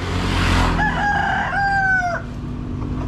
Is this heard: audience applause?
no